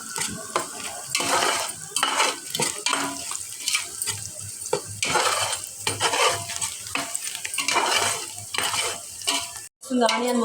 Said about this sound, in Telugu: బాగా బ్రౌన్ కలర్ వచ్చే వరకు ఫ్రై చేసుకోవాలండి ఆనియన్స్ని